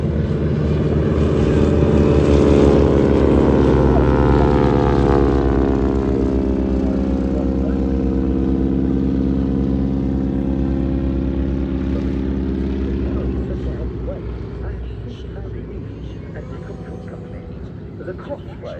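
A propeller-driven crop-spraying training biplane flies past at an airshow display in Portrush, its steady engine drone loud and close before slowly fading, with a voice talking over it throughout.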